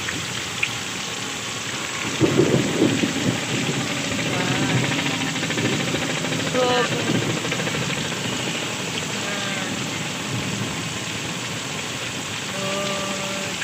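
Steady rain pours down in a dense, continuous hiss, with faint background noise and a few scattered tonal sounds drifting through.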